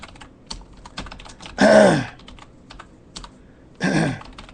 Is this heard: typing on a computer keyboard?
yes